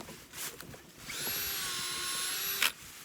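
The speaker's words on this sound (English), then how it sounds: "He drills a hole in there" A power drill bores a tap hole into a maple tree on a sunny day, giving one steady high whine for about a second and a half before stopping abruptly, fairly close and alone.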